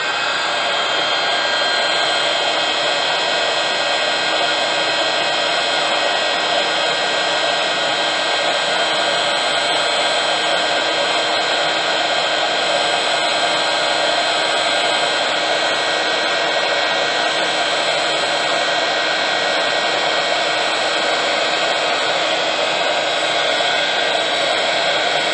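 A heat tool runs nonstop while melting embossing powder on paper Christmas tags made from book pages, a loud, even fan hiss and whir that holds steady from start to finish.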